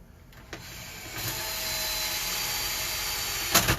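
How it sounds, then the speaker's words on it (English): A power drill whirs steadily for a few seconds, pre-drilling pilot holes while installing a Larson Secure Elegance storm door, starting with a short burst and ending in a louder bite as the bit cuts into material, close by. "I come down and I drill, pre-drill all your holes."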